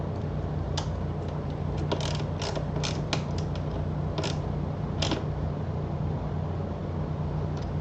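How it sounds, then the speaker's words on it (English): Ratchet tightening a bolt on the aluminum subframe of a Honda Goldwing motorcycle, a steady run of mechanical clicking with a few louder sharp ticks over a constant low hum, close and alone. "So now I can tighten it back down."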